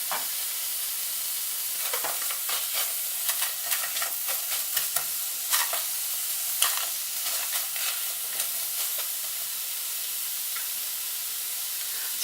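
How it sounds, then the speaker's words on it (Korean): Onions stir-frying in a dry frying pan with no butter or oil over medium heat, a steady close sizzle and hiss broken by irregular scraping and stirring clicks throughout, with no talking. "지급 재료에 없기 때문에 마른 후라이팬에 양파를 볶아주시면 되겠습니다."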